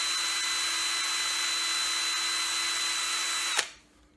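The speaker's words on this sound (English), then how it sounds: "Put the drill into the base of the float and then drill" A small power drill bores a 1mm hole into the base of a fishing float, whining steadily and loudly at constant pitch for several seconds before spinning down abruptly near the end.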